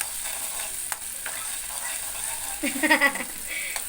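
Tomato, mustard seeds, cumin, curry leaves and onion for poha fry with a steady low sizzle and occasional stirring clicks, and a voice speaks briefly near the end.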